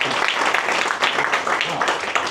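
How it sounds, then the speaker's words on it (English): Applause from a crowd gathered in a pub for a residents' anniversary celebration, loud, close and continuous clapping filling the whole stretch, with some voices mixed in. "I think Tom deserves a round of applause"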